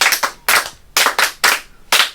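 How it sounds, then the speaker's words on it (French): Five separate bursts of clapping from a small audience, each a short flurry of claps at a steady, fairly loud level with brief pauses in between and no talking. "Applaudissez pour vous."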